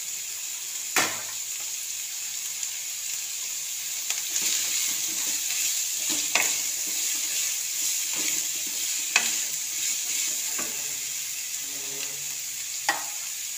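Cabbage stirred in a frying pan: a quiet, even sizzle broken by occasional sharp spatula scrapes and taps at irregular intervals, with nobody speaking.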